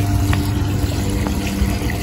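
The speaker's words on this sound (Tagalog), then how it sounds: "Ayan, lakas ng tubig." A strong, steady rush of water pours from a tap, a continuous hissing flow with a faint mechanical hum underneath.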